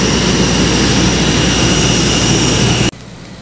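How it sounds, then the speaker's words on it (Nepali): A Buddha Air passenger plane's engines roar loudly and steadily at Bhadrapur airport, a dense jet-like whine that cuts off abruptly near the end, with no voices. "प्लेन आइसकेको छ"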